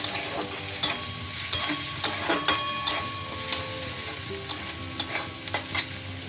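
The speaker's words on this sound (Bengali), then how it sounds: "হালকা ভাজা ভাজা করে নেব।" Garlic and ginger fry lightly in oil with a constant close sizzle. A spatula scrapes and taps the pan in an irregular rhythm over it.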